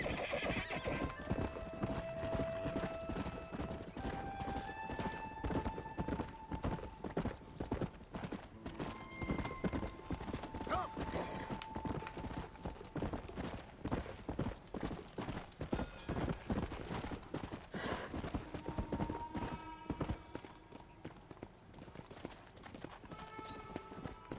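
Horse hooves clip-clop in a steady rhythm on a trail in the video game Red Dead Redemption, with a whinny and game music underneath, no talk.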